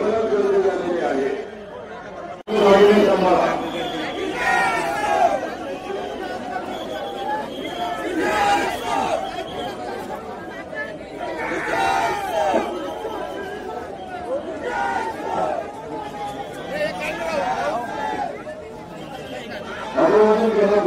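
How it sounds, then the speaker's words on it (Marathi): A large crowd mills around the Bhima Koregaon memorial pillar, a dense, loud hubbub of many voices chattering and laughing throughout, with one nearer voice rising above the babble at times. "मोठ्या प्रमाणात गर्दी झालेली आहे."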